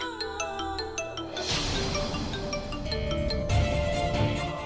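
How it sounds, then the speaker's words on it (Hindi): A phone rings in a Hindi TV serial with a melodic electronic tone over a dense musical background, continuing steadily for several seconds. "राहुल का फोन।"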